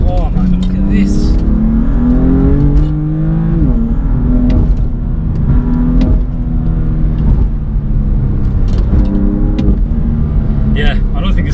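A BMW M4 CS engine revs and climbs in rising harmonic sweeps, loud and close, with shifts and throttle blips across the stretch and a voice talking over it.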